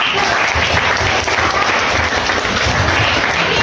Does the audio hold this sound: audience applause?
yes